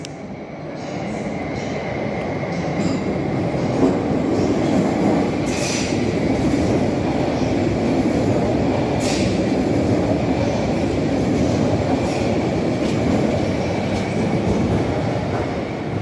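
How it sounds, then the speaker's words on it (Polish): An airport train pulls out of Warsaw Central station, a steady near rumble of railcar wheels with occasional squeals and faint clatter running the whole time, no talk over it. "Sygnał dla pociągu lotniskowego. I punktualny odjazd."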